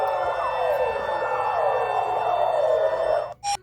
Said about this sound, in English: It sounds like a police siren.